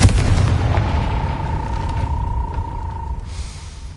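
A Confringo fire spell blasts in the Hogwarts Legacy video game: a loud explosive burst at the start, then a sustained ringing tone and rumbling decay that fades over a few seconds, with no speech.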